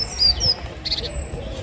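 A great tit calls from a perch right overhead outdoors, a few short bright chirps close by over a low background hum.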